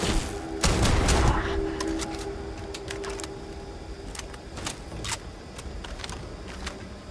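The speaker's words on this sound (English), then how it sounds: "Opening fire." Gunshots ring out in a Starfield firefight, with a dense opening burst followed by scattered single shots at irregular intervals, fairly close and loud.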